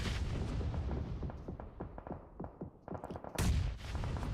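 Rapid booming gunfire and explosive blasts from a PUBG Mobile esports match, dense and continuous with a brighter burst near the end, a grenade explosion among heavy shooting.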